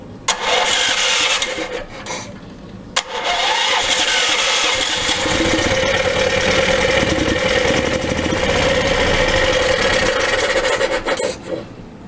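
Small single-cylinder engine running after its compression release was adjusted to 20 thousandths: a steady, loud mechanical chug close by, with a brief catch near the start, running continuously to the end.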